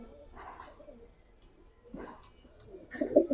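A male pigeon from a collection of flying and coloured tumbler pigeons gives soft, low cooing calls in several short bursts, fairly close, with a faint high tone running underneath.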